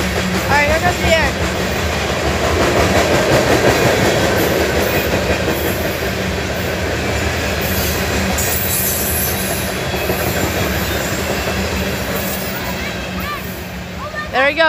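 CSX freight train with green boxcars rolling past in Folkston, Georgia, a steady loud rumble and clatter of wheels filling the whole stretch, with occasional squeals and a voice speaking over it.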